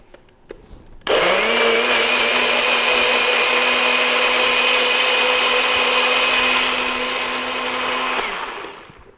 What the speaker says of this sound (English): right into the tiny blender. And I'm going to close it now and blend everything really well together